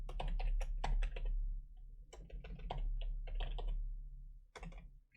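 Fingers type on a computer keyboard in close, quick clusters of clicky keystrokes with brief pauses between bursts, over a steady low hum.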